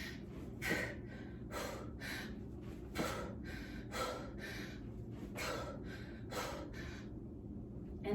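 Steady, moderate breathing at a maintenance cadence during dumbbell push presses, about eight sharp exhales at an even rhythm of roughly one per second, close, with no talking.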